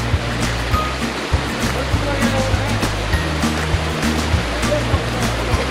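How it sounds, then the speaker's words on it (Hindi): A hidden waterfall in Tripura rushes steadily in a dense, loud wash of falling water, with occasional low thumps and knocks nearby. "तो अभी वाटरफॉल का नज़ारा"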